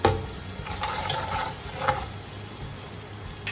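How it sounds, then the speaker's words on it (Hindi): Goat or mutton meat (gosht) fries in a pot for a savoury namkeen gosht, giving a steady soft sizzle with occasional stirring scrapes and brief clinks, close and moderately quiet, with no voices. "अब इसके अंदर हम गोश्त डालेंगे और इसको अच्छी तरह से फ्राई करेंगे।"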